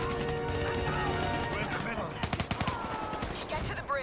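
Rapid gunfire in Call of Duty Black Ops 3 crackles in dense bursts and spaced shots, loud and close, with game voices mixed in underneath.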